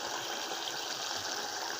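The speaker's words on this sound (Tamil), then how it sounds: "ஈரல் வந்து தண்ணி விட்டு வதங்கிக்கிட்டு இருக்கு" Chicken liver fries in a pan with turmeric as it releases its water, giving a steady, close, watery hiss and bubbling without pause or voices.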